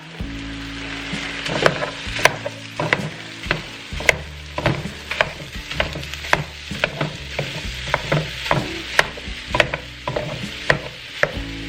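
Lean ground turkey and beef fry in a skillet, a steady close sizzle broken by repeated sharp scrapes and taps of a utensil stirring the meat throughout, with no talking.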